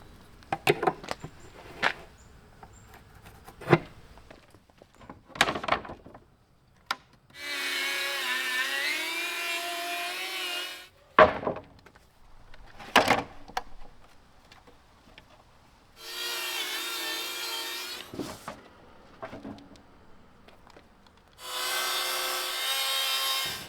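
Bursts of sawing through wood boards, ripping French cleats at 3 inches with a 45-degree bevel, short strokes alternating with longer stretches of steady rasping, close and fairly loud, with quiet gaps between.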